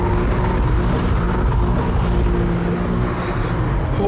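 A car driven hard through a tight, greasy track corner gives a loud, steady engine roar and road rumble that holds constant throughout, close up, with no voices.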